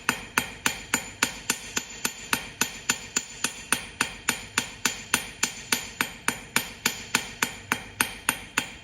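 A hammer striking silver on a metal stake during silversmith forging, with about two dozen sharp ringing blows at a steady, even rhythm, close and loud, with no voices.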